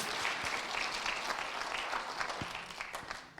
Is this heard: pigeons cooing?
no